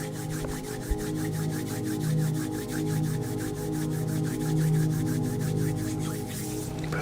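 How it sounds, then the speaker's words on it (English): Two hands rub gently together in a steady, even rhythm of soft, close swishing strokes over a quiet, low tonal backdrop. "Maybe bring those hands together in front of you and gently rub them together."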